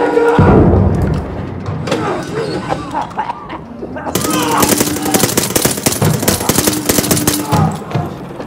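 Grenade blast and gunfire in Call of Duty: Vanguard inside a submarine, a heavy thump followed by sustained rapid machine-gun fire, with voices talking over the combat.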